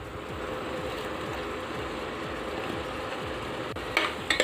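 Moong dal with turmeric is mixed in a pan over a gas flame for a sponge gourd sabji, giving a continuous soft scraping and stirring with a faint sizzle and no talking.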